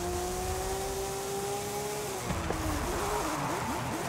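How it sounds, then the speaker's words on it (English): In the video game Forza Horizon 5, a Porsche slides while racing: a steady engine drone gives way to wavering tire squeal and skidding as the car drifts, loud and close. "we'll just enjoy the Porsche sliding around"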